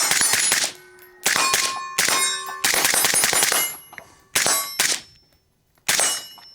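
Pistol bullets strike a steel target outdoors at a range, producing a series of about six sharp ringing clangs, each with a bright metallic ring that decays over a fraction of a second, separated by brief silences.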